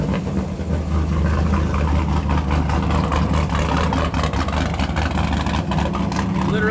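A Ford SVT Lightning pickup's engine runs through its sealed, tightened exhaust with a loud, steady, deep rumble, close and continuous without letting up.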